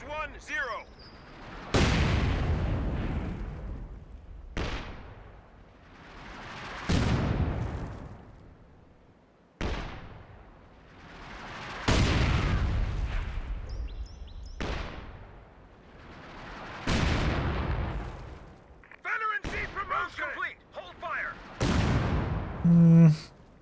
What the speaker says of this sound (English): Testing out the revised Scott Barrage now should have tighter scatter and extra shell.